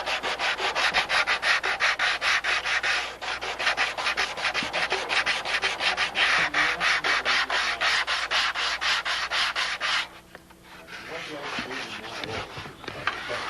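Rapid back-and-forth hand sanding strokes with contour sanding grips on a model aircraft fuselage in a steady rhythm, close and loud, shifting to a softer rubbing texture near the end.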